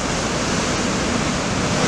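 Ocean surf at Anglet beach, with waves of about 1.5 to 1.8 metres breaking on clean, smooth water under light wind, making a dense, steady wash of roaring white noise heard at a distance with no voices.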